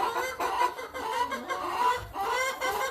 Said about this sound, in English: You can hear the chickens wanting out